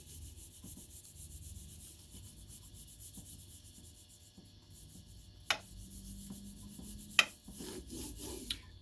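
A slicker tool rubs back and forth across material on a workbench, making a faint, steady scraping hiss with a few sharp clicks near the end, close but quiet.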